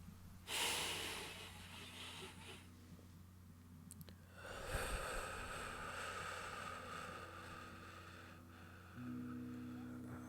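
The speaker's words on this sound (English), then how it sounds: "Take a breath in and let it be the biggest breath you've taken all day." A person draws a long, deep breath in, heard as airy rushing through the nose and mouth. It sits over a soft, steady musical drone, with a second slow inhale following a brief pause.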